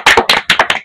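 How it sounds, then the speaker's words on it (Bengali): Children at a Children's Day celebration clap their hands together in quick, loud, close bursts, about seven sharp claps in a lively uneven rhythm. "হাততালি দাও।"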